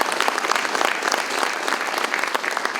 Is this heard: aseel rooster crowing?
no